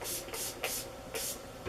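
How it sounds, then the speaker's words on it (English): Urban Decay All Nighter makeup setting spray is pumped in three quick bursts of soft airy hiss, each lasting a fraction of a second with short pauses between, close and fairly faint, with no voices. "I'm gonna go in with the Urban Decay All Nighter setting spray"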